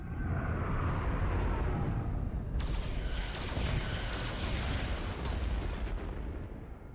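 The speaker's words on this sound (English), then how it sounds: "Fire photon torpedoes! Firing." Photon torpedoes firing at an enemy ship in the Star Trek Resurgence video game, with heavy continuous rumbling punctuated by two sharp bright blasts, loud and dense with no talking.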